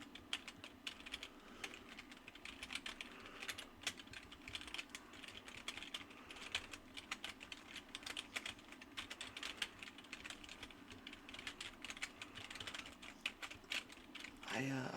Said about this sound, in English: Let me do a little bit of keyboard sounds here.